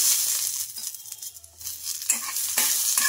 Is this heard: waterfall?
no